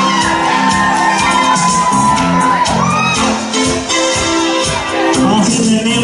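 Loud, continuous crowd cheering, shouting and whooping at a talent show contest in the Stanley Club, Burscough, with voices yelling throughout over a dense background roar.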